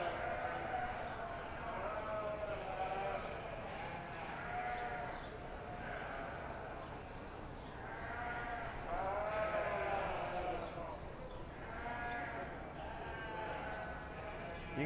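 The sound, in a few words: commercial blackface ewes bleating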